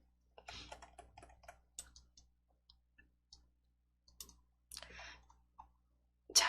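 Mouse clicks while copying and pasting code blocks in Entry block-coding software: scattered sharp clicks in short irregular bursts, close and fairly quiet, with silent gaps between and a louder click near the end.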